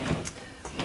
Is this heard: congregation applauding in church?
no